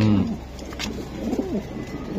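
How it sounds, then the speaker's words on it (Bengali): Budapest racing pigeons cooing nearby in low, throaty warbles, several rolling calls in succession over a rumbling background. "কবুতর তো ডাকবে ভাই"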